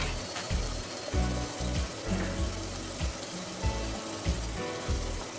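Small diced eggplant pieces sautéing in a hot pan for a Kanchipuram-style eggplant kadaiyal, a steady close sizzle and frying crackle with soft stirring scrapes throughout, no talking.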